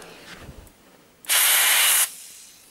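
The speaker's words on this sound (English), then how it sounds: "Don't want to spray too much liquid on there" A single loud hiss of liquid spray lasting under a second onto a TV power supply board with a failed optocoupler, preceded by faint handling sounds and followed by quiet.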